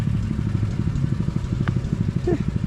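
A small engine runs weakly while powering a water hose in hot outdoor work, a steady low chugging rumble throughout with a faint clatter.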